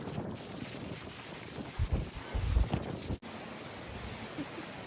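Strong sea wind on Jogashima Island roars into the microphone as continuous broadband noise, with heavy low buffeting gusts in the middle seconds and no talk.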